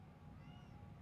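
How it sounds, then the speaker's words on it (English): A house cat chirps and meows somewhere in the background, one short rising call over a low hum, faint and at a distance. "My cat's just chirping real loud back there."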